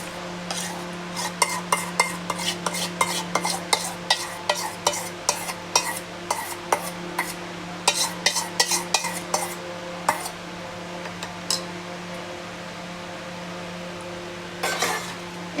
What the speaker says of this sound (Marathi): त्याच्यामध्ये हा सगळा पल्प काढून घेऊया.